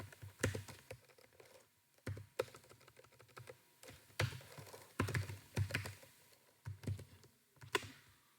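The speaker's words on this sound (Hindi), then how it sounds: "मैंने लिख दिया सूरज, मैंने लिख दिया मुकेश, मैंने लिख दिया राजेश" Short runs of typing on a computer keyboard while names are entered into code, the keystrokes close and crisp, arriving in uneven clusters separated by brief pauses, with no talking.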